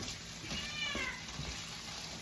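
A pet cat meows once, a short close cry in a quiet kitchen with a little faint background noise.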